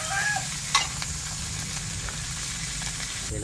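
Adobo simmering in coconut milk in a pan sizzles and bubbles steadily, with a clink of a utensil early on, in a rural home kitchen.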